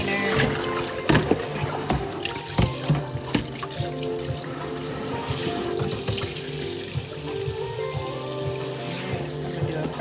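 Tap water running steadily into a sink while tie-dyed fabric is rinsed, a continuous close splashing and gurgling broken by brief knocks and sloshes of handling.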